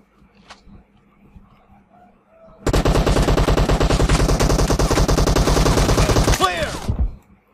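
Sustained automatic gunfire from the shooter game PUBG Mobile in a gun game mode erupts after a few quiet seconds of faint in-game sounds, rattles loudly for about four seconds, then cuts off.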